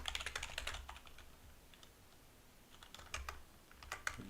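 Bursts of rapid clicking from a computer keyboard, fairly close and moderately loud, with a quiet pause in the middle before the typing resumes.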